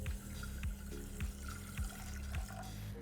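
Water is poured into vinegar to start a pickled ginger brine, a soft steady trickle with faint repeated low clunks, quiet and close.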